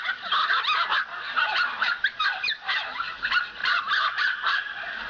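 A crowd of dogs at a West Virginia puppy mill barks and yips continuously, many overlapping voices, fairly close and loud, with no talking.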